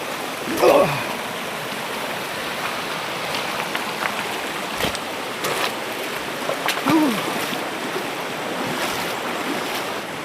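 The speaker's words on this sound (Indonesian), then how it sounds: "Mau kena seberang lagi nih sungai." River water rushes and churns continuously at a forest river crossing, with a few brief knocks and splashes and some talking partway through.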